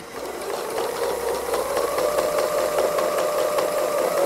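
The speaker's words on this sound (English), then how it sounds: "So I just stitch in lines back and forth, not going too fast." A sewing machine doing free-motion embroidery, stitching back-and-forth lines to fill in a robin's legs, giving a steady, even mechanical whirr with a rapid regular tapping of the needle, close and continuous, with no talking.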